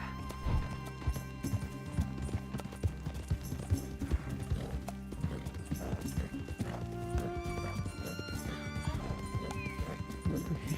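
Horse hooves clip-clopping in the video game Red Dead Redemption 2, a steady trotting rhythm with occasional whinnies over a busy game soundscape, fairly quiet and continuous.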